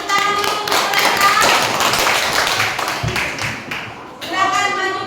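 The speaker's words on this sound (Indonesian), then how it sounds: "dari kelompok 2 tepuk tangan dulu untuk mereka" Children in a primary school classroom clap for a group of classmates, a burst of many quick, overlapping hand claps at close range that fades briefly before a short second round, with some voices mixed in.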